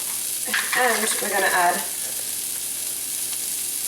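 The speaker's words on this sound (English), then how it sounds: "Then we're going to add our onions. Can you hear that nice sizzle as soon as it goes in there?" Onions hit a hot pan with a continuous crackling sizzle that holds steady throughout, while a voice speaks briefly over it.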